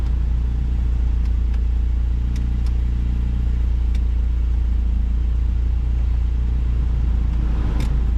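The heater blower fan runs in a 1992 Toyota pickup, blowing hot air. A loud, steady, low rumbling drone with the engine running continues without letup, with a few faint clicks.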